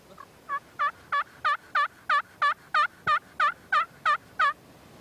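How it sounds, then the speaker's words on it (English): Wild turkeys gobble in a steady run of about a dozen loud, rattling calls at close range, each burst sharply separated from the next, with no talk over them. "They were gobbling pretty hot and furious."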